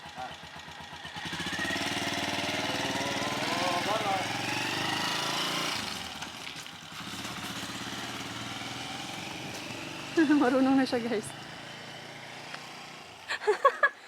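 A small motor scooter engine putters and revs nearby for several seconds, then fades; people talk briefly toward the end.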